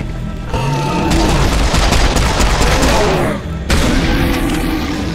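Heavy gunfire and booming blasts in Serious Sam 4, a loud dense barrage running for most of the stretch with a short dip near the end before resuming.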